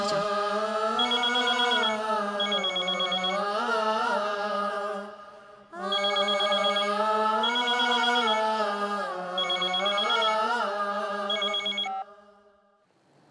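A telephone rings in a domestic drama scene, its electronic bell repeating in two long, loud bursts separated by a short gap, with no talk over it.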